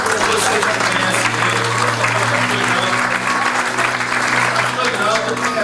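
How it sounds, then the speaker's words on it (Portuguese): A church congregation gives sustained, loud applause welcoming a pastor, with a dense, steady clapping wash and faint crowd voices underneath. "eu quero que você dê umas boas-vindas com a salva de palmas"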